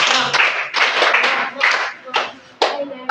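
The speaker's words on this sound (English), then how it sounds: "A round of applause for her." A classroom group clapping for a student: several uneven bursts of handclaps, close and fairly loud, separated by short pauses, with voices in between.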